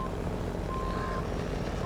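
A truck backing up in a logging video game, a faint steady reversing beep tone over a loud low engine rumble, no talk.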